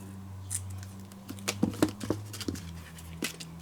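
Scissors cutting paper for a filigree booklet, a few soft snips and crinkles clustered midway through, quiet and close, no voice.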